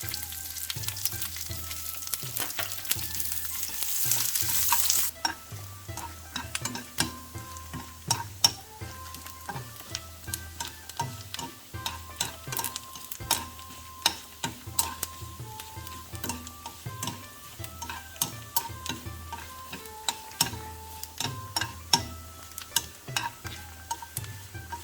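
Onion and curry leaves frying in a pan, an initial burst of loud sizzling that settles into a quieter crackle with frequent rhythmic spatula taps and scrapes against the pan, close and alone.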